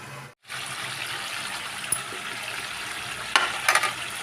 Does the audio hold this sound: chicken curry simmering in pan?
yes